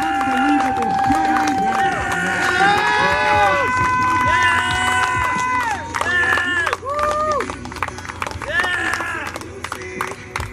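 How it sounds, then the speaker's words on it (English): Crowd at a wrestling show claps and cheers after a match, a loud, continuous swell of applause and shouts while an announcer speaks over it. "let's give these guys a round of applause for an unbelievable show"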